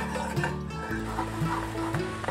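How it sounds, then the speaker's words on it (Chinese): Thickened sauce in a small pot comes to a boil, giving a soft, continuous bubbling sizzle under repeated scraping and stirring clinks, close and moderately loud, with no talking. "酱汁慢慢的沸腾了，煮开了，也变得比较粘稠了"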